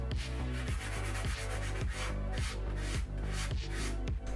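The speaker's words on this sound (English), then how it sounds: "I also used a 400 grit sanding block just to further smooth everything over" Rhythmic rubbing strokes of a 400-grit sanding block smoothing a plastic puzzle cube scrape back and forth at a steady pace, close and continuous.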